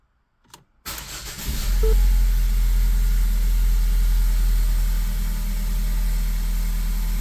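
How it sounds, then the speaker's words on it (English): A Ford Focus engine cranks briefly and catches, then settles into a steady, loud idle that continues to the end with no talking. "Start engine or crank for 5 seconds if the engine does not start."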